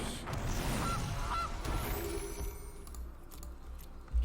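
Goose honks from the MTG Arena digital card game sound out as a couple of short nasal calls early on, loud and close over a busy game-effect background, with a soft thump at the end.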